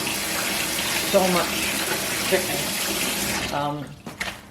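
Tap water runs steadily into a kitchen sink for washing chicken, a constant close hiss and splash that cuts off near the end with a few clunks and drips.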